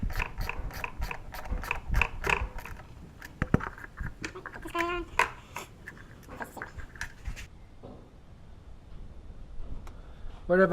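A ratchet clicks in quick bursts while hose clamps are tightened on a 2015 Honda Civic Si during a throttle body spacer install, with close metallic pawl ticks, pauses, and faint background sounds between runs.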